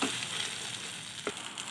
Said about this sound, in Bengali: এবার ভালো করে নেড়ে নিতে হবে যতক্ষণ না লাল লাল হয়ে আসে